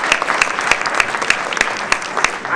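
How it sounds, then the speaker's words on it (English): A crowd applauds at a Maryland Women's Hall of Fame event, producing loud, continuous clapping with distinct sharp claps standing out from a dense, even patter. "Applaud yourself."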